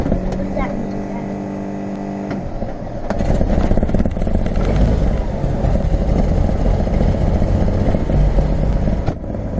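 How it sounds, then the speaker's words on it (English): A Cirrus SR22 light aircraft's propeller engine cranks and catches, its rumble rising into a steady, loud idle that carries on to the end. "All right, let's get our engine started."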